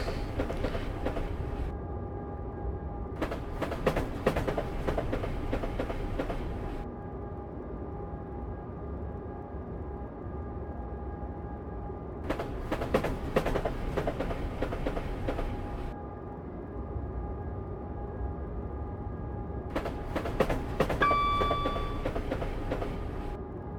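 Simulated train running in Train Simulator 2015, a steady rumbling rail drone with clickety-clack wheel beats and brighter bursts of mechanical noise that come and go, with a brief tonal whistle-like signal near the end; no talking.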